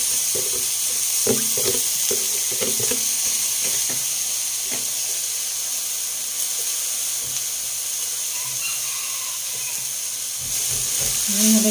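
Banana heart frying in a pan for a Filipino sauté with espada fish, a steady hiss of oil with scattered clinks and stirring knocks, close and continuous.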